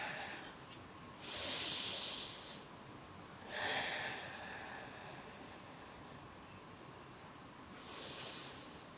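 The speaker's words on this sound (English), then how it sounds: "Otherwise, take 2 breaths." Slow, deep yoga breaths during a gentle morning stretch class, two soft airy breaths heard close up, each a hiss of air rising and fading, with quiet pauses between.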